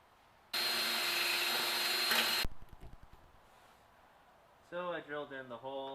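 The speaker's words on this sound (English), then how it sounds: "So now I gotta drill that bitch out." A power drill drills out a stuck bolt during rear suspension bracing work on a Ford Mustang GT350, a loud steady whine for about two seconds that cuts off, followed later by a short speaking voice.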